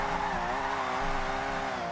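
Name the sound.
car drifting with tire squeal in video game Forza Horizon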